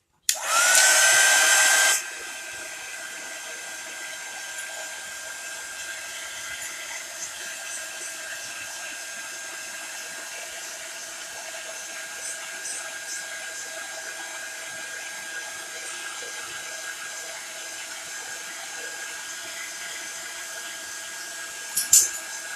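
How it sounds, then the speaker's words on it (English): A heat tool, the kind used for drying chalk paste on a craft transfer, gives a loud steady blowing whir in a short burst near the start, then cuts off, leaving a quiet room hum with a faint click at the end. "And now I'm going to dry it with the heat tool."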